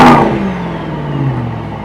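Mercedes-AMG GT 63 S E Performance engine revving in Sport Plus mode, a loud close bark at the start that falls away into a fading drone over two seconds.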